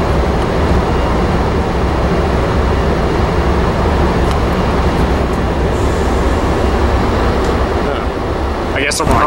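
BNSF freight train rolling past at Fullerton, a loud, steady rumble of wheels and cars filling the whole stretch, with a voice talking over it.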